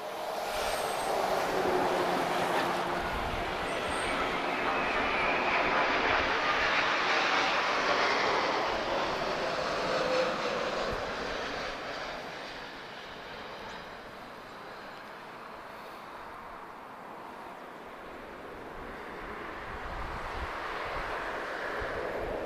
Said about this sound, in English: There's a 787 just about to touch down from Salvador